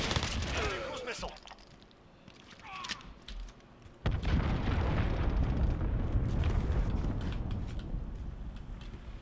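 An explosion in a video game, marked by a sudden heavy boom partway through that gives way to a long rumbling roar, after earlier whooshes and a few sharp cracks.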